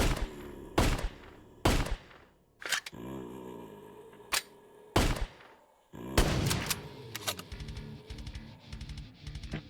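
Gunfire from a weapon in the virtual reality game VRChat rings out in loud, sharp single shots spaced about a second apart, then a quicker cluster of reports with ringing tails near the end.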